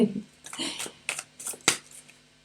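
Crisp riffling bursts of tarot cards being shuffled close by, several quick rounds in an uneven rhythm, with no clear talking over them.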